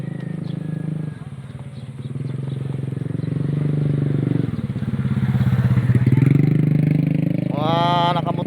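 A motorcycle runs along a road in a Bicol province, its engine droning steadily close by and rising slightly toward the end, with a brief whine near the finish and no speech.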